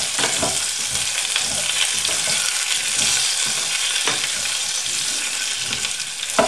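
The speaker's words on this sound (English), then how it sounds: "And give it a stir." Chopped onions sizzling loudly in a pan as they are stirred, a dense continuous frying hiss with scraping stir strokes, no talking.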